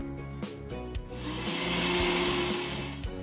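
A kitchen mixer grinder whirs loudly and steadily as it grinds wheat, rice and cardamom with milk, its motor tone rising into a dense, rushing roar midway through, with no talking.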